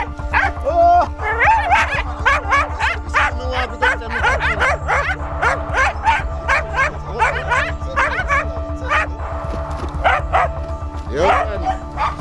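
A dog barks and yips repeatedly in short bursts over a steady background hum, with people talking nearby throughout and a whimper-like cry near the end.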